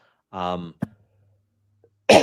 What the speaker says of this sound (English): I had to cough into the mic there